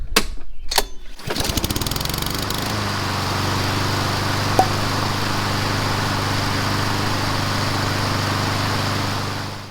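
A lawnmower's small engine catches after a pull on the starter cord, its spark plug freshly gapped and reconnected; a few sharp pull bursts give way to a steady, close, continuous running drone.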